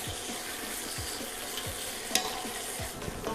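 A large batch of onions frying toward brown for korma, continuous dense sizzling with repeated low scraping strokes of a spoon stirring through the pan at an even rhythm.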